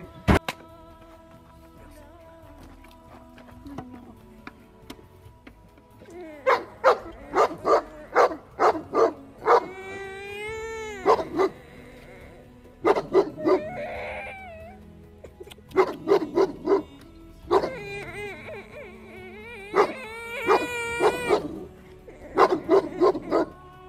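A Cane Corso barks in rapid, repeated bursts close by, with whining and yelping cries between the volleys; no talking.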